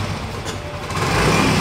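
A second-hand motorcycle engine starts and runs, a loud, steady, buzzing rattle that fills the whole moment up close and rises slightly toward the end, with no talking over it.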